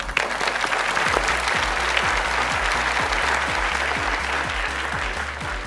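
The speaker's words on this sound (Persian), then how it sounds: "تشویق کنیم." Studio audience applause on the Persian Family Feud game show Ro Dar Ro, a dense, sustained clapping from a large crowd that stays loud and even for several seconds.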